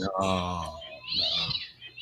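A cat lets out a drawn-out meow up close, mixed in with people talking nearby.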